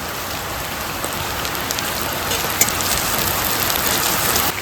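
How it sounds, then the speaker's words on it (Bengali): Heavy rain pours down steadily, a dense, even hiss with no breaks and no voices. "এই বৃষ্টিতে কিছু শোনা যাচ্ছে না"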